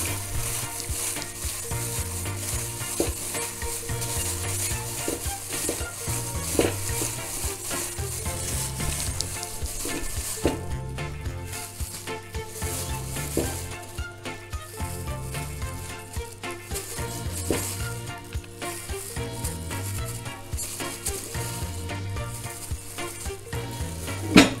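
Pork belly sizzles in a hot pan with half a tablespoon of sesame oil as it is stirred, giving a constant loud frying crackle with repeated scraping stirs. No one speaks.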